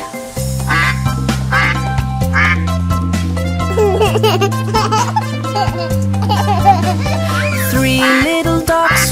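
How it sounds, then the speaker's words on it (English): Duck quacks over a bouncy children's tune with steady bass notes and a light melody, repeating throughout. "Mother duck said quack, quack, quack, quack"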